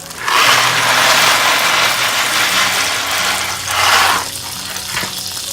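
Pasta poured into a pot of already boiling water gives a loud rushing hiss and rattle close by that lasts several seconds, dips, then surges briefly again before settling into a quieter bubbling.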